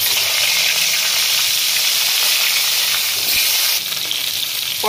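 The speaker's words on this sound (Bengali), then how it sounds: "পটলগুলো আমি ভেজে নেব।" Sliced pointed gourd (parwal) sizzles and fries in a hot wok, a loud, steady crackling hiss that carries on without pause and with no talk over it.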